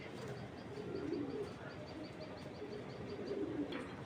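Pigeons kept as pets coo in low, soft, repeated murmurs nearby, with faint chirps and background noise around them.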